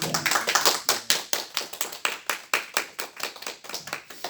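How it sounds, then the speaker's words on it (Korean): A congregation at a Sunday church service applauds, a steady burst of close, crisp clapping that keeps going at an even pace for several seconds. "박수하겠습니다."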